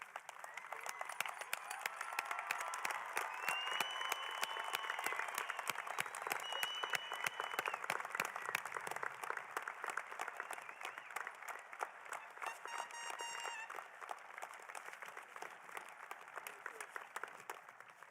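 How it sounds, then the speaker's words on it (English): A large crowd at a high school commencement gives graduates a standing ovation, sustained clapping with scattered cheers and whistles, heard from a distance at low level and slowly thinning toward the end. "These graduates that will be serving our country need one more standing ovation from our crowd."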